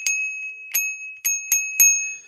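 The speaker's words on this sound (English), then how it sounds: "That's supposed to be a bicycle bell" A bicycle bell sound effect rings five times in quick, slightly uneven succession, each ding bright, clear and close, with a short metallic decay between strikes and no talking.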